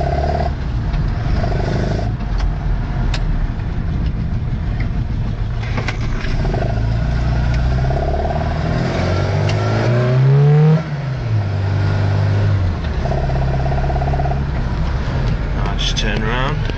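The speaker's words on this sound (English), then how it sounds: "It's the carburetor, you can hear." A 1989 Mini City E petrol engine idling and revving, loud and close, with rising and falling rev sweeps over a rumbling idle and a prominent surge near the middle.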